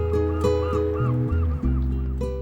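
Geese or ducks honk repeatedly on the Côte de Granit Rose, the calls loud and fairly close over a steady low background hum.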